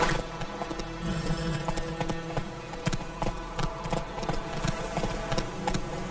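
Hooves of the horse Roach clip-clop at a gallop in The Witcher 3: Wild Hunt, a steady rhythmic beat carried over a dense game soundscape of music and ambience, with no talk.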